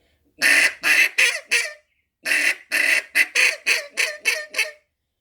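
A duck call sounds eleven short, honking quacks in two groups, four and then seven, moving from a low tone to a higher one. The calls are close and loud with a pause between the groups.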